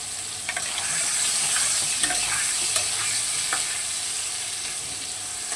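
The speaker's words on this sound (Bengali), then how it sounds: "এবার আলুগুলো একটু ভেজে নেব।" Potatoes frying in hot oil with salt and turmeric give a loud, continuous sizzle close by, broken by occasional clicks and scrapes of stirring.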